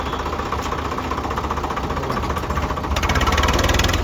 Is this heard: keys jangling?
no